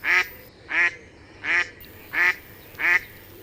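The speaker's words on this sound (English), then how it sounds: "The mallard population increase during winter and their quacking is a familiar winter" Mallard ducks in wetland reed beds give five loud, nasal quacks at an even, unhurried pace, each call clear and close against a quiet background.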